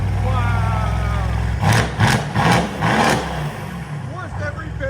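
Mercedes C63s AMG with a 4.0-litre twin-turbo V8 and catless straight-pipe exhaust, idling close by and then blipped in several loud, rapid revs of rising engine roar.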